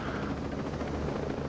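Enemy helicopter in the video game Ghost Recon Breakpoint, a steady low rotor thrum and engine drone that stays constant and fairly loud throughout, with no talk over it.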